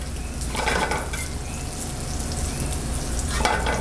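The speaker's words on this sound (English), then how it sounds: "So keep shaking these pine nuts. So I'm adding the garlic in just to take that raw bite off the garlic." Pine nuts and garlic toast in a shaken pan for pesto, giving a steady hissing sizzle with swelling bursts of rattling as the pan moves.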